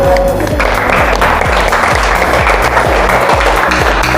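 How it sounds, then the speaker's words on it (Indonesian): A classroom of students applauds the presenting groups, a broad hiss of clapping layered over loud rhythmic music with a repeating bass pulse. "mari kita berikan apresiasi untuk semua kelompok pada hari ini dengan tepuk tangan"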